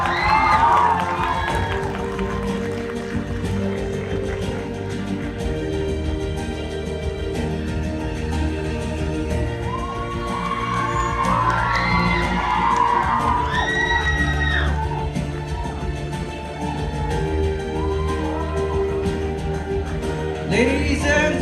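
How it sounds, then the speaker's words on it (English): A crowd cheers, whoops and claps at the Miss Kohima 2025 pageant in Jotsoma as the new queen is crowned, a dense, steady roar of applause and shouting with bright yells lasting throughout. "Please, a huge round of applause for the new queens."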